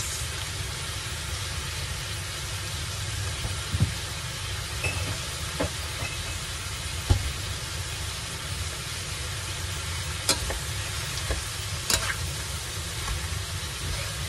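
Pancit noodles and vegetables stir-frying with oyster sauce in a pan, a steady close sizzle running throughout, broken by a few sharp clicks and taps of the utensil against the pan.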